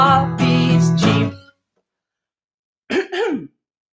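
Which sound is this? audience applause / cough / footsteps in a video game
cough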